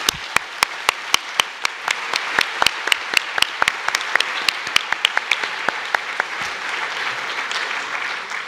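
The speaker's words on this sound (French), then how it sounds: "Voilà, merci, je vous demande de l'applaudir." A hall audience applauds at a public interview with astronaut Thomas Pesquet, with steady loud clapping and sharp individual claps standing out over the crowd for several seconds before it thins.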